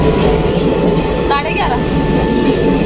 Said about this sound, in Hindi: ये देखो ट्रेन आ गई ये परियनी एक्सप्रेस आई